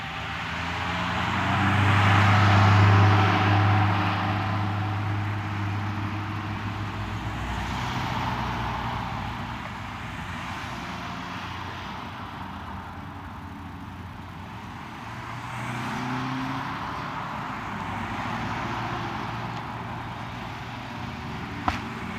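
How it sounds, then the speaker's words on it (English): Steady road traffic with cars passing by in Santa Cruz, California, a continuous broad whoosh rising and falling as vehicles go past, no voices. "Are you gonna count the cars going by?"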